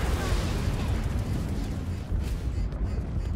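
A loud, sustained orbital strike explosion in a first-person shooter game rumbles with heavy low booms and crackling debris, close and dominant throughout.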